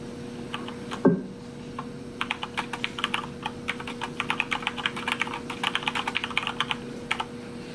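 Typing on a Corsair K70 Lux RGB mechanical keyboard, a quick irregular run of crisp close clicks and clacks after a single louder knock, continuing in bursts without any talk.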